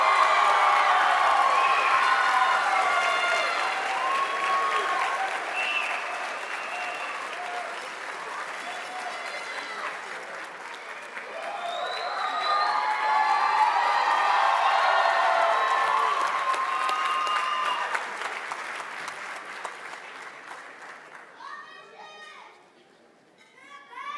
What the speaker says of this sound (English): Please, let's make history by applauding Alondra